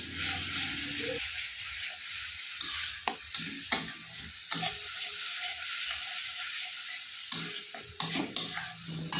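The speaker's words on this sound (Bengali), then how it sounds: "ভালোভাবে মশলাটা কষিয়ে নেব।" Rohu fish curry spice paste of chilli powder, Kashmiri chilli and ginger-garlic paste with water fries in a pan, a close sizzle broken by repeated scraping stirs and sharp spatula knocks throughout, no talking.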